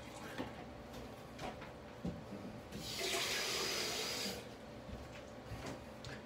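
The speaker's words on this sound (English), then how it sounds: "Gonna add the rest of the water." Water pours into a vegan ketogenic meal shake in a blender jug, a steady hissing splash of about a second and a half that rises out of quiet kitchen noise and then stops.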